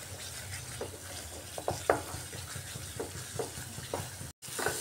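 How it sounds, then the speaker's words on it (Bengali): Spice paste with tomato and sugar frying in a kadai, a soft steady sizzle broken by several scraping stir strokes and small pops, with a brief dropout near the end. "চিনি দিয়েও একটু সময় কষিয়ে নিচ্ছি মশলাটাকে"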